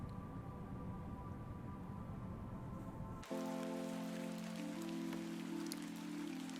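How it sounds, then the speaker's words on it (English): Rain falling in the video game The Excavation of Hob's Barrow, a steady soft hiss with a low rumble that changes abruptly partway through, when sustained tonal music notes enter over the rainfall. "Now it's raining?"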